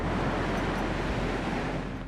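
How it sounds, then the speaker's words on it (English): Ocean waves roll in and crash on the Esplanade during the 2011 flood, a dense, steady roar of surf mixed with buffeting wind noise and no voices. "A rare sight on the Esplanade when waves rolled in and came crashing down"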